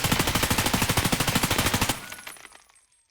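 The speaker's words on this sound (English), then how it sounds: "now we're going to try the M4" M4 rifle fired uncontrolled in Escape from Tarkov, a fast full-auto burst of evenly spaced loud shots for about two seconds, then a fading echoing tail.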